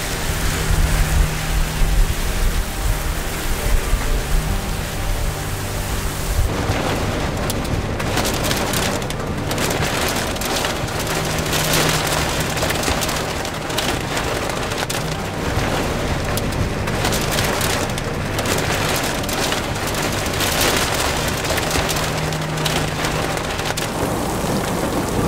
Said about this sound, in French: Il y a des précipitations qui sont vraiment très intenses.